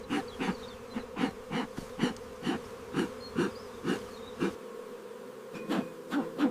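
Honeybees buzz steadily around a hive, a close droning hum with rhythmic pulses as individual bees pass, no voices.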